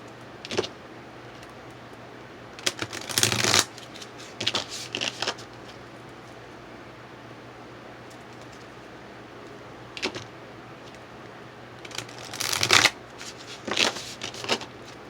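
A Psychic Tarot card deck being shuffled in short, crisp riffling bursts of flicking cards, close and fairly loud, with quiet pauses between the rounds of shuffling.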